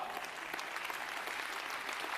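A crowd at an Istanbul poetry event applauds steadily, a thick even wash of clapping with no pauses, moderately loud and sustained throughout.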